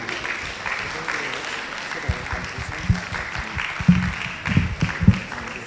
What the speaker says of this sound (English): please a round of applause for Honorable Tomide Leonard Akinribido